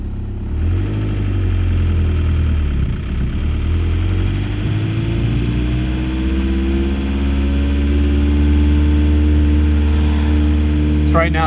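A car with a swapped-in TDI diesel engine pulls at full throttle, its loud, droning engine note rising steadily in pitch as it accelerates, with a faint whine above it and some cabin noise.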